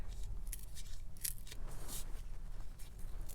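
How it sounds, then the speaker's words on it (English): Homemade tape of patterned tissue paper is torn by hand, giving several quiet, short crisp rips and crinkles spread across a few seconds, with no voices. "this side is always a little harder to tear because it's thinner"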